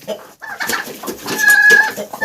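A rooster clucks and squawks close by in short, agitated bursts near a turkey hen in a village yard.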